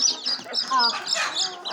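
A native hen and her twelve hen-hatched chicks cluck and chirp softly in quick, overlapping bursts, close by, with a faint voice mixed in.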